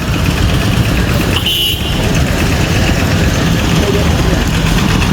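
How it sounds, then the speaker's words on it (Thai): A motor water pump runs steadily, pumping floodwater out of a temple in flooded Nong Khai; a loud constant engine drone fills the scene, with a brief high-pitched tone partway through. "โอ้นี่ตั้งได้ยินเสียงเครื่องสูบน้ำแล้วเนี่ย อ๋อสูบน้ำในวัดดู"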